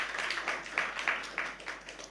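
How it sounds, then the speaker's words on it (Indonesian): A church congregation claps during a worship service, sharp bursts landing in a steady, rhythmic beat, moderately loud and fairly close. "Berikan tepuk tangan bagi Tuhan Yesus."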